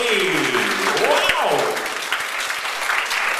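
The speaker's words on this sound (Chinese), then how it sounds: "掌声鼓励。" An audience welcomes a cosplayer singer onstage with a burst of loud, dense applause, while an amplified host's voice and cheering carry over it at first before the clapping settles.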